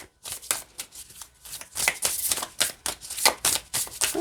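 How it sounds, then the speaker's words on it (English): Affirmation cards from a deck being shuffled by hand, giving a run of quick papery riffles and flutters that repeat throughout with no talking. "let's see how they shuffle this way"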